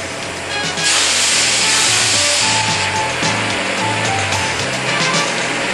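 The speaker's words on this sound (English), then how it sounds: "You run the torch to the vertical limit, light the torch, and begin the preheat." A cutting torch on a Mini Mantis beam cutter is lit and burns in preheat, a loud steady hissing roar that flares after a short quieter start and holds close and constant.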